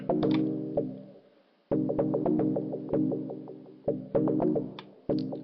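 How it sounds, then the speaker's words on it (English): A synthesized techno chord in Ableton Live stutters and retriggers irregularly as a looped filter envelope chops it, producing sharp clicky attacks followed by decaying tones, with no speech over it. "And you get like these really cool sort of stuttering effects."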